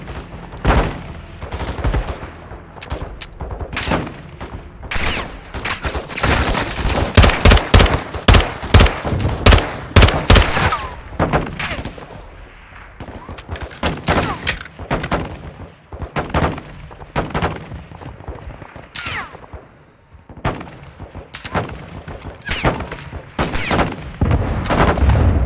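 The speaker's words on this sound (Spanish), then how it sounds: "¡Nos están disparando cohetes desde el edificio 2!" Rapid gunfire, machine-gun bursts and heavy rocket blasts from a building in Call of Duty: Modern Warfare 2, loud and nearly continuous for the whole stretch with dense crackling shots and deep booming impacts.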